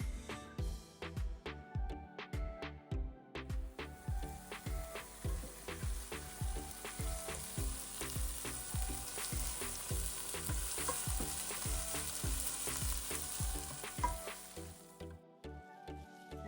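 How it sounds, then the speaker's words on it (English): Onions frying in a pan for okra masala, a steady close sizzle with rhythmic stirring scrapes throughout, no voices. "as you see now, the onions are being fried"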